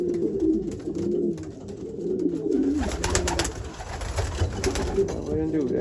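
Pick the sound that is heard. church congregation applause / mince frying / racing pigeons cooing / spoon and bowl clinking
racing pigeons cooing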